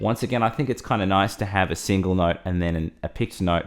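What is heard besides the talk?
None of the usual background noises is heard.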